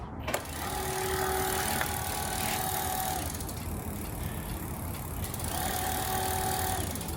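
Bafang mid-drive motor on a mountain bike ebike conversion, run on the throttle with the bike stationary, whirs steadily with a thin high electric whine that rises and holds, then fades and returns for a second run.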